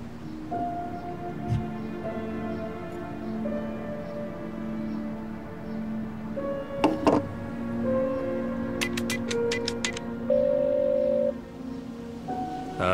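Telephone keypad tones as a number is dialed in the video game Black Mirror 3, a quick series of short beeps over a sustained musical background.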